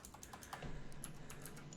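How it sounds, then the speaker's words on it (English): Quick, uneven keystrokes on a computer keyboard while coding in Python, a run of close, light clicks and taps with no talking. "Look at my awesome typing."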